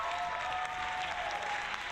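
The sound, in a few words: applause button sound effect of fake clapping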